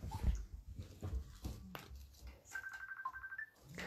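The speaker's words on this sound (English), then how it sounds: "That's not my ringtone." A Facebook call ringtone rings out as a steady electronic tone pattern over room noise and low thumps, arriving partway through.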